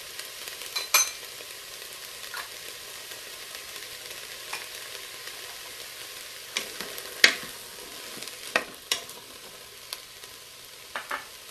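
Spices for barbecue sauce sautéing in an Instant Pot, a soft steady sizzle broken by sharp occasional clicks and taps of a spoon against the inner pot, faint and close.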